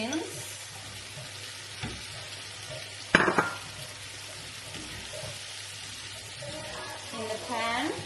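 Green beans frying in a pan with oyster sauce and tofu, a steady soft sizzle with a sharp crackling burst partway through and occasional clinks of stirring, while a voice talks quietly in the background.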